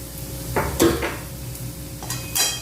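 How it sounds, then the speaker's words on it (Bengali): A utensil stirs and scrapes bottle gourd leaf paste with rohu fish, salt and turmeric in a pan, giving a few scattered clinks and scrapes at close range with no voices. "লবণ হলুদ লাউর পাতার পেস্ট একসঙ্গে ভালো করে ঘুটে নিচ্ছি"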